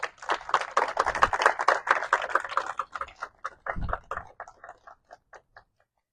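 Audience applause for a speaker at a science talk on microorganisms, a dense patter of claps that peaks early and thins out into scattered, fading claps over about six seconds.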